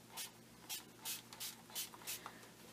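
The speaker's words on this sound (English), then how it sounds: "let's spray it with some water and spread it out" Water sprayed from a spray bottle in quick, faint hissing bursts, about eight short spritzes in an uneven rhythm, close by with nothing else over them.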